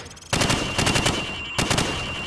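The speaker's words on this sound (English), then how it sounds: "Now, shoot at the targets while firing from the hip" Rapid automatic gunfire from the hip in Call of Duty 4: Modern Warfare, loud close bursts starting after a brief quiet lead-in, a pause, then a second burst, with no talking.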